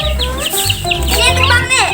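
Chicks and hens cheep and cluck close by in a backyard. Bright, chirpy calls overlap one another, and a child's and an adult's voices talk over them.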